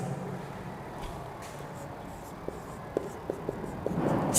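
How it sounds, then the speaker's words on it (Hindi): Homework is written on a classroom board with chalk or marker, giving faint scratchy strokes and a few taps over quiet room tone, with no talk. "मैं यहाँ होमवर्क लिख रहा हूँ"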